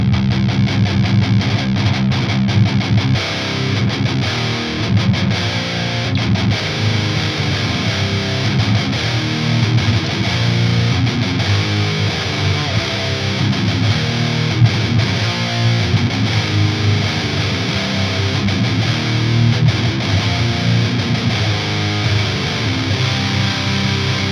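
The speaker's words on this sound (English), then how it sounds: "I really like the way this pedal sounds so far" Electric guitar played through a Behringer Heavy Distortion pedal with boost, a thick, saturated, sustained tone with continuous riffing and no pauses, loud and close.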